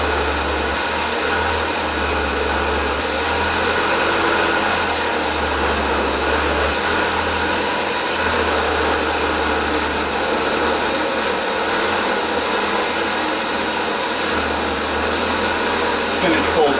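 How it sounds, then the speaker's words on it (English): A blender running on high speed chops juice, spinach and kale, a loud continuous motor roar with a deep hum, steady throughout with slight shifts as the load churns. "I'm going to go ahead and switch it to high speed and go to chop"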